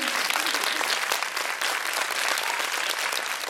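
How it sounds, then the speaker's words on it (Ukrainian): Dense, steady audience applause at a charity concert fills the hall, a continuous wash of many hands clapping at moderate level with no break. "Ваші оплески!"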